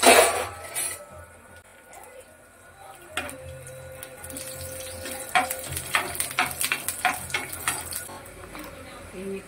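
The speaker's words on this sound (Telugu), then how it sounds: "ఇప్పుడు జీలకర్ర వేసుకొని వేగాక వెల్లుల్లి, పొట్టు తీసిన వెల్లుల్లి వేసుకొని కొంచెం వేయించుకోవాలి" Cumin seeds and peeled garlic fry in a pan with a steady sizzle, while a utensil stirs and clinks against the metal in a quick run of taps near the end.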